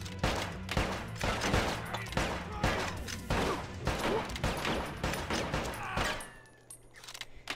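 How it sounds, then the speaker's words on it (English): Rapid gunfire from a Bad Boys: Miami Takedown shootout, a dense run of sharp repeated shots across most of the passage before cutting off near the end, leaving a quieter low hum. "how many shots is he gonna take?"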